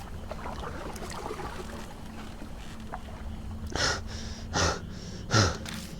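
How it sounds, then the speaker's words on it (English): Quiet low rumble, then three splashy strokes of an oar hitting water in the video game Spirit Hunter NG, spaced about a second apart, close and moderately loud. "It's an oar hitting the surface of the water."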